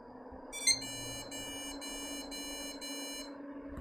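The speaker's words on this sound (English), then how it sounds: "It's posting, but I don't like them beeps." Computer BIOS POST beeps at startup: a series of about six short, evenly spaced electronic tones over a steady low hum of fans, with no single clean beep.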